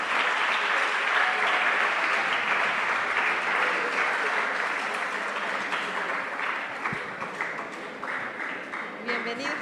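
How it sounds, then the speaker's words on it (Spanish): A conference audience applauds warmly for a mathematics teacher's talk, dense continuous clapping filling the room and slowly tapering off, with a voice faintly underneath. "Fuertes aplausos"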